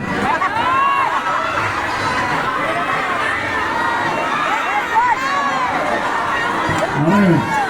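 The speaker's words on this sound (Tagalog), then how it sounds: "Hindi pa sinasabi, malakas na yung sigaw eh." A large crowd shouts and cheers at a political rally, a dense, continuous roar of many voices with louder bursts of excited yells, close and sustained throughout.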